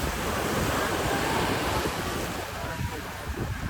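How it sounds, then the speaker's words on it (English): Small ocean waves break continuously at Waikiki Beach, a steady broad wash of surf with wind noise buffeting the microphone. "These are little waves right here compared to yesterday in Kauai."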